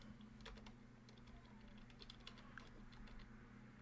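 Computer keyboard typing, quiet scattered clicks and taps in short irregular bursts over a steady low electrical hum and background hiss.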